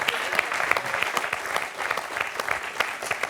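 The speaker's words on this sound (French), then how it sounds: "On peut applaudir encore Jean-Claude quand même." Studio audience on the French quiz show Questions pour un champion applauds a contestant after four in a row, brisk even clapping throughout, close and lively.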